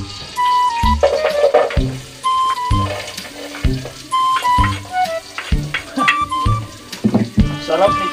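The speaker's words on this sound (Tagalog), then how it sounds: "Bigisan muna yung sibuyas at luya." Onion and ginger sauté in hot cooking oil with a steady sizzle, near and fairly loud, while someone talks throughout and music plays along.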